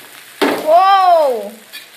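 Fried rice sizzling loudly in a hot pan as it is stirred, a sudden burst of frying hiss followed by a sustained sizzle that fades near the end, close and alone with no talk.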